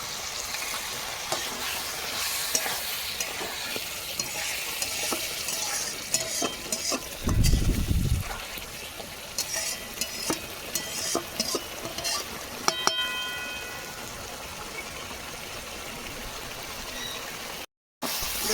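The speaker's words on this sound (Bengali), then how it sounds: "মশলা তালায় বসে যাচ্ছে মশলা জল দিয়ে দিচ্ছি" Spice paste fries in a pan and sizzles steadily. Midway a burst of water hits the hot paste with a loud rush, and stirring clatters throughout.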